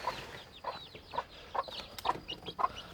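Chickens cluck softly in a steady rhythm, about six short calls spaced evenly over a quiet background.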